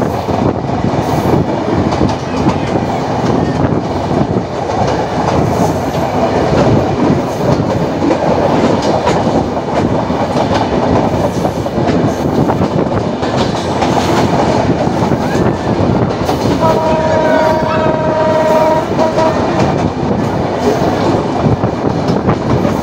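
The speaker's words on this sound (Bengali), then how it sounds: "এই ট্রেনটা থ্রু পাস যাবে এবং এই থ্রু পাসটা আপনারা এনজয় করেন" An express train, the Jahanabad or Rupshi Bangla Express, runs straight through Navaran station in Bangladesh without stopping. A loud, steady rumble and wheel clatter carry throughout, with a brief high squeal or whistle-like tone near the end.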